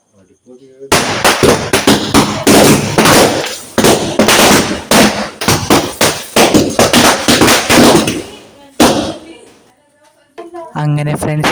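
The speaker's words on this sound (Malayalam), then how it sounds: "ഇപ്പോൾ നമ്മൾ മാലപ്പടക്കാണ് കേട്ടോ പൊട്ടിക്കുന്നത്" A string of firecrackers bursts on the eve of Vishu, a dense, loud run of sharp cracks that rattles on for about eight seconds, stops abruptly, then gives way to faint voices and a brief tonal sound.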